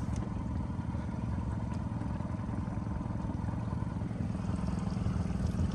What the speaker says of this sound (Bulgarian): Господин Мърво е пред нас с новата модерна лодка.